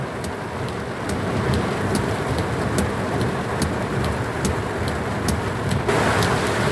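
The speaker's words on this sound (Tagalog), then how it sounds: "Grabe ulan mga driver" Heavy rain pounds a vehicle in a downpour, a dense, loud, continuous hiss and drumming on the body with faint ticking drops, steady throughout.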